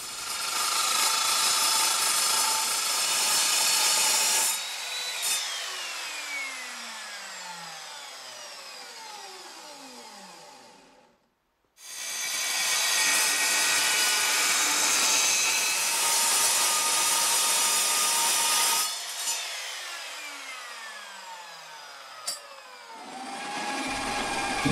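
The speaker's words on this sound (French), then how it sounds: "On voit que la scie saute quand je suis en train de couper là" A hand or power saw cutting wood for bedside tables and a headboard, the saw skipping as it cuts, with loud sustained rasping passes, a brief pause near the middle, then another long cut, and no talk.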